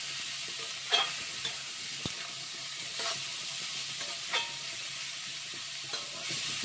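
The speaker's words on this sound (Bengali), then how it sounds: "এই দেখো এঁচোড়টা দিয়ে এবার নাড়াচাড়া করে নেব।" A spoon stirs boiled green jackfruit frying with peas in a pan, giving a steady soft sizzle with intermittent scraping strokes about once a second, close and fairly quiet.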